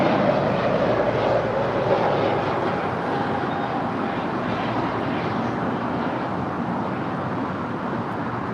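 Spirit Airlines airliner taking off at LAX, a steady broadband jet roar that holds loud and even throughout, slowly easing slightly toward the end with no talk.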